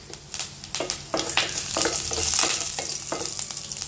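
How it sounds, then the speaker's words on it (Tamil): Mustard seeds and curry leaves fry in hot oil with a steady, crackling sizzle, broken by repeated sharp pops and spits that come close and loud, with the hiss building through the middle. "கடுகு அண்ட் கருவேப்பிலையும் ஆட் பண்ணி, இதில் நான் கருவேப்பிலையும் ஆட்"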